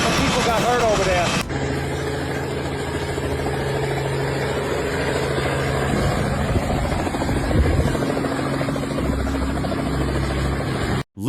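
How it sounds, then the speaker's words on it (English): Helicopter rotor and engine drone through a tense landing, a steady loud mechanical hum with low thumping throughout and a burst of wind-like noise at the start; voices are faintly present underneath. "Loose fabric nearly struck the helicopter blades during a tense landing."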